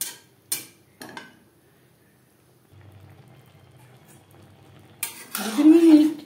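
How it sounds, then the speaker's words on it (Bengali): Okra being stirred with spices in a pan over a low flame, with a few sharp utensil clinks and scrapes against the pan, a quiet stretch, then a louder burst of scraping and clattering near the end. "3-4 মিনিট মশলার সাথে ভেন্ডি নাড়াচাড়া করে নেব"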